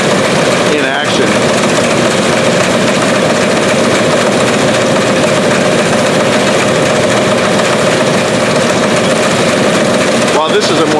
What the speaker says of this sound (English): it's just a great opportunity to hear what this machine sounds like, what the Chevy engine sounds like, and the reel and all the working parts